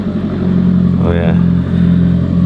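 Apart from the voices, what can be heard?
Alfa Romeo 4C car being driven into the shop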